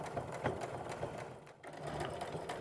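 Sewing machine stitching an apron, running steadily and close with a continuous whirring hum and a fast needle rhythm that dips briefly partway through before resuming.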